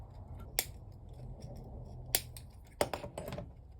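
Cutters snipping throttle wires on an ONYX RCR electric motorcycle wiring harness, three sharp isolated clicks spaced about a second or more apart, close and crisp over a quiet low hum.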